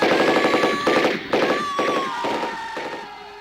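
A Sten gun fires in a dramatized battle, with rapid bursts of loud gunfire and explosive cracks that echo and decay, repeated several times, with shouting mixed in.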